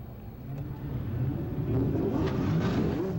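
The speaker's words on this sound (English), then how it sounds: "Gentlemen, start your engines." Race car engines at the 1989 CART Detroit Grand Prix rumble steadily at low pitch, a broad engine drone that swells slightly louder partway through, with several cars idling and revving together.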